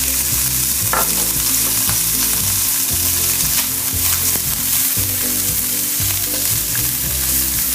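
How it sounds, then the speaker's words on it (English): Onions and carrots sauté in a pan for pasta in white cheese sauce, a loud, close, continuous sizzle with steady rhythmic stirring and scraping against the pan, and no speech. "After the onions, I'll add the carrots."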